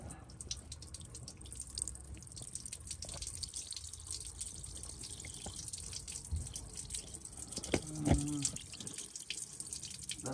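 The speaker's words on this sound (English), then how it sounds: "there's where my water leak is" Quiet, continuous trickling and dripping of water leaking from a freeze plug on a Ford F-150 engine, with a brief slightly louder splash near the end and no talking.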